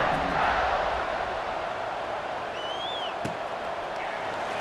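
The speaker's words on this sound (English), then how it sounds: "this crowd now ready to get behind them" A stadium crowd roaring steadily in EA Sports College Football 26, a dense, continuous wash of cheering with a faint whistle-like tone rising partway through.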